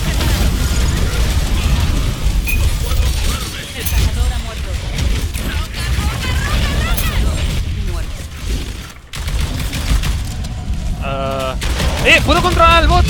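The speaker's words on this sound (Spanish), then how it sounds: "Yo disparo." Rapid gunfire bursts in the video game Evolve, running under near-constant excited talk from players.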